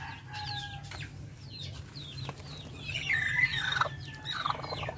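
Native chickens cluck and call close by in a farm setting, with several short, bright vocalizations and a louder burst of squawking midway over a low background hum.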